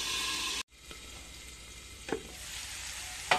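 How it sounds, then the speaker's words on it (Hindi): Potatoes frying in a pan, village-style cooking: a steady hiss of oil that cuts out briefly, then returns with a few stirring clatters. "आलू को पहले थोड़ा देर फ्राई कर लेती हूँ।"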